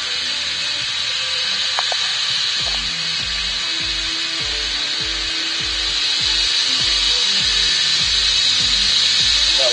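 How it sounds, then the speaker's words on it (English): Wood lathe running at speed while a sharp roughing gouge makes light cuts on a small wand handle blank, a steady loud whine and hiss with rhythmic low chattering thumps of the tool meeting the spinning wood, no talking. "Turn the lathe on, bring it up to speed."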